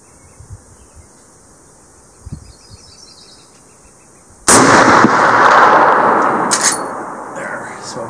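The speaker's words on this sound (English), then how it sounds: "Or this is how Marlins eject, even with that Wild West Guns insert." A Marlin 1895 lever-action rifle fitted with a Wild West Guns insert ejecting cartridges, with a few light handling clicks followed by a sudden loud metallic clack and a sustained noisy tail.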